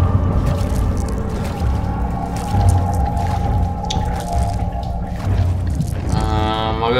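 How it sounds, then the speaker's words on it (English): Water splashing and dripping inside a dark dungeon cell in the horror game Amnesia, a continuous wet, sloshing wash with small drips over a low droning rumble. "There's water here."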